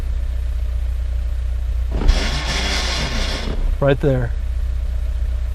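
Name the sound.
manual transmission gears grinding as clutch engages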